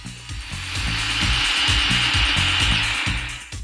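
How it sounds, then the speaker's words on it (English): A food processor grinds freeze-dried strawberries in a loud, steady whir with a rhythmic rattling churn of pieces against the bowl, running continuously from start to finish. "we start by pulverizing the freeze-dried strawberries in a food processor"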